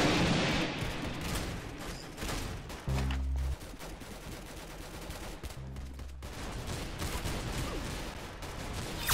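Rapid, dense gunfire from the shooter game Arsenal rattles on continuously for several seconds, with two brief low droning bursts breaking in and no speech.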